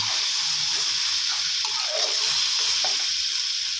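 Water hits green curry paste frying in a pan for a dry chicken green curry stir-fry, giving a steady loud sizzle and hiss with faint stirring, close up and without speech.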